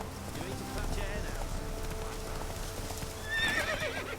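Roach, a horse in The Witcher 3, gallops with a rapid, rhythmic clip-clop of hooves and gives a short whinny near the end, under ongoing game ambience.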